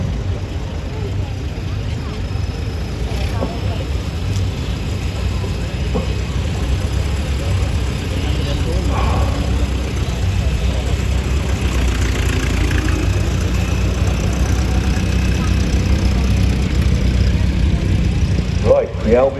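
A small vintage Bedford lorry idles in a parade of rigid vintage lorries at the Shrewsbury steam rally, a steady low engine rumble under an announcer talking over a public address.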